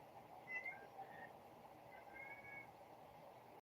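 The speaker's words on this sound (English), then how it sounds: "Like a bunch of different types of meows. Meow grunts, meow calls." Several soft, short cat meows close by, one after another in a quiet room, with gaps of near silence between them.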